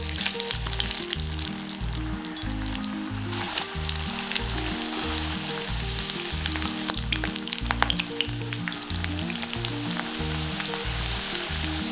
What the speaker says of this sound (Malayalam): ഇത് വറുത്തെടുക്കാൻ വേണ്ടിയിട്ട് കുറച്ച് എണ്ണ ചൂടാക്കാൻ വെച്ചിട്ടുണ്ട്. ഇതിലേക്ക് നമുക്ക് പൊട്ടറ്റോ ഇട്ട് കൊടുക്കാം.